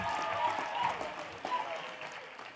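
A brief round of applause from a crowd at a college business school ceremony, many hands clapping together at close range, quick and moderately loud, then thinning out toward the end.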